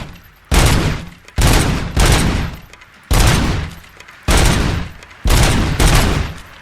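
Loud, close bursts of gunfire from the video game RoboCop: Rogue City, about seven sustained automatic volleys separated by brief pauses, with no voices.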